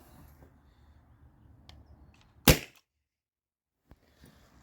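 A Byrna SD launcher fires once with a single sharp, loud pop midway, followed by a faint click and otherwise quiet room background.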